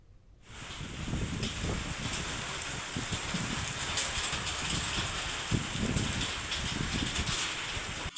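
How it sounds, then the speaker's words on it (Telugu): Heavy rain pours steadily in Hyderabad, a dense continuous hiss of drops on surfaces that starts after a brief quiet moment and holds loud and even throughout, with occasional heavier splashes. "ఇటు కూకట్పల్లి, వివేకానంద నగర్లో కూడా భారీ వర్షం కురుస్తోంది."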